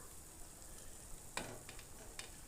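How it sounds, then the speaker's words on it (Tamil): Heart-shaped cookie dough frying in hot oil, giving a soft, steady sizzle with a few brief crackling bursts and no voices. "அது எல்லாத்தையும் நம்ம வந்து இப்போது பொரிச்சு எடுத்துக்கலாம்"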